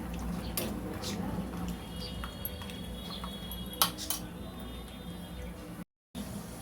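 Peanuts fry in about five spoons of hot oil in a pan, giving a steady low crackling sizzle with occasional light clinks of a utensil against the pan, and a faint voice briefly in the background.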